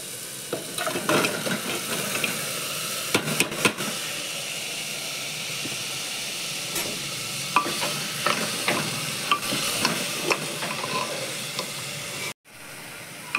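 Mutton trotters rubbed with turmeric and salt go into roasted masala, giving a constant steamy sizzle with intermittent spoon scrapes and clatters, until a sudden brief cut near the end.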